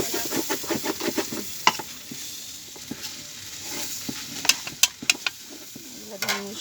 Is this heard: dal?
yes